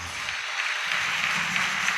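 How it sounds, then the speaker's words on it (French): Wedding guests applaud steadily at a civil wedding and nuptial blessing, a dense, continuous wash of many hands clapping at moderate loudness throughout. "Sous vos acclamations"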